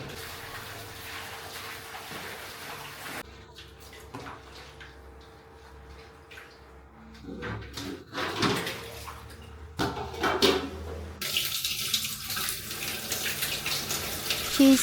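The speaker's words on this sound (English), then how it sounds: "She's washing some green onions to add to the soup." Tap water runs into a kitchen sink while green onions are rinsed for a Vietnamese home-cooked soup, a steady close splashing that grows louder and fuller toward the end.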